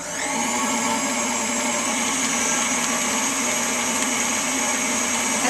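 An electric mixer whirs steadily through a batter of cream cheese, egg, vanilla and sugar for cheesecake cupcakes, a loud, unbroken blending drone from start to finish with no talking.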